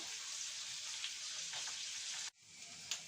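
Slices of pain perdu, bread soaked and fried in a pan over lowered gas, sizzle steadily and close, with faint crackles and pops, one short break, then the frying resumes.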